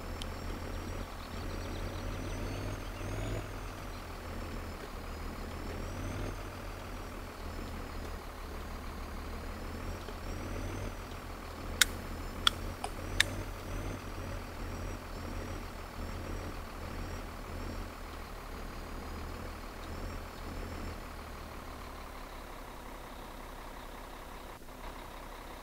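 A truck engine in the Farming Simulator 2013 video game drones at a steady idle-like rumble throughout, with a few brief sharp clicks around the middle.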